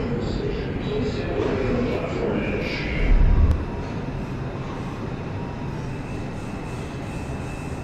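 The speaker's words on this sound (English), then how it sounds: "This is a New Lots Avenue bound 3 train." A New Lots Avenue bound 3 train on the New York IRT subway in the Roblox game rumbles steadily throughout, with a brief louder low surge near the middle and a faint announcement voice over the train.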